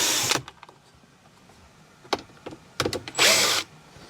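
A power tool unscrews screws in a Tesla Model 3 interior, sounding as short whirring bursts separated by quiet pauses, with a longer buzz near the end.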